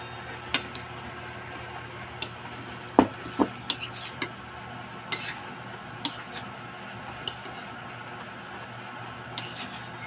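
Fried tofu is stirred into a dipping sauce with a utensil, giving scattered clinks and taps against the dish, some sharp and close, over a quiet background.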